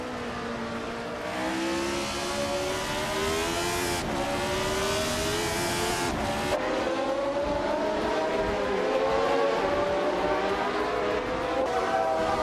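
Several 1975 Formula One race cars in a racing video game at the Curitiba track roar steadily, their engines whining and shifting pitch as they pass close by, loud and continuous without any talk.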